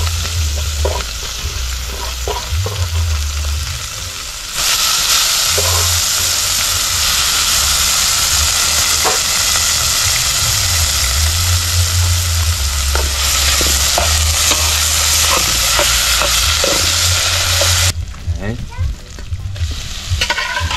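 Ackee and saltfish sizzle steadily in a hot pan while being stirred, a loud continuous frying hiss broken by scraping and clinking, with a brief break near the end.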